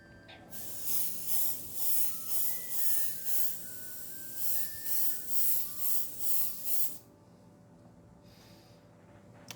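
Colani airbrush spraying through a thick needle, a loud hissing blast pulsing in about ten quick even bursts, then stopping short into near silence with a faint brief puff.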